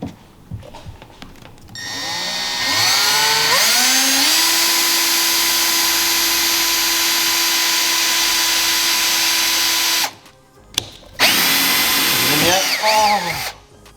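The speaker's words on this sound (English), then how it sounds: "Yeah, so now we gotta drill it." A power drill bores into a part on an old Sea-Doo XP personal watercraft, its motor spinning up to a loud, steady whine for several seconds, stopping briefly, then running again.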